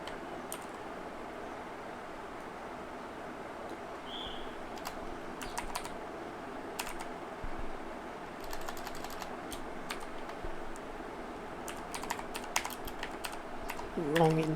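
Quiet, close computer keyboard typing while JavaScript code is written, with scattered bursts of clicking keys over a soft room hum, and talk in places.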